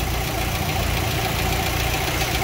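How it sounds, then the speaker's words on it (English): A car engine is held at high revs during a boost sensor test, giving a continuous loud, dense roar that stays steady from start to finish. "So I'm going to rev it fully."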